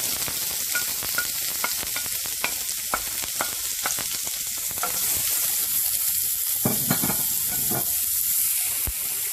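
Finely chopped curry leaves and onion fry in a pan for raw banana puttu, sizzling loudly and continuously with crackling pops and the scrape of stirring, and no voices.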